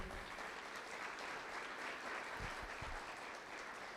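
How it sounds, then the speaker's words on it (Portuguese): A church congregation claps in a sustained, even round of applause during a sermon, the clapping steady and somewhat quiet throughout, with no voices. "Aplauda o Senhor."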